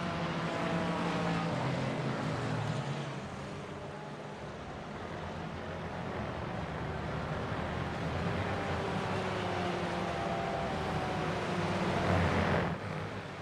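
A GT4 race car in a racing game lapping the Red Bull Ring, its engine droning continuously with rising and falling pitch through gear changes and corners, heard at moderate distance without talk.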